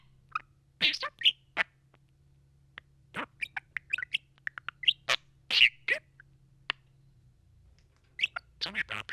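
A pet budgie parakeet chirps and chatters in quick bursts of sharp tweets with short pauses, close and clear in a quiet room, with brief human speech mixed in.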